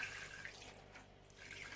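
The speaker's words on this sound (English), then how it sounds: "So I'm going to add a little bit of water" Water pours into a cooking pot while a Gambian chicken and peanut stew is prepared. The pour is a faint, steady splash and trickle that lasts throughout.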